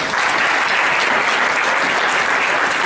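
Dense, continuous applause from an audience at an education and criminal justice event, a steady roar of clapping throughout.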